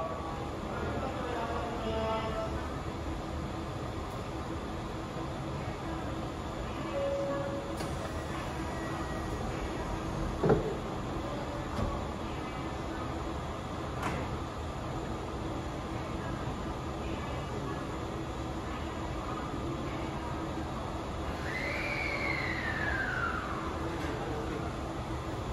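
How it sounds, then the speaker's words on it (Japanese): A Kintetsu Hinotori limited express bound for Isuzugawa pulls out of Namba station, a steady low rumble of the train running throughout the underground platform, with a brief clank near the middle and a rising whine toward the end. "2番乗り場から五十鈴川行き特急火の鳥が発車します。"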